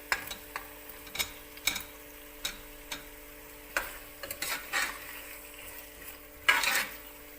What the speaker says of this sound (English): Next add in the tomatoes.